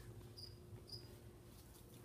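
Crickets chirp in a bearded dragon enclosure with a carpet substrate, giving two short, faint, high trills over a low steady room hum.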